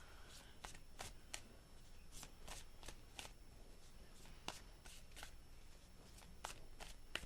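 Tarot cards shuffled close by in a repeated riffle, a run of crisp bursts and snaps over about seven seconds, with no talking.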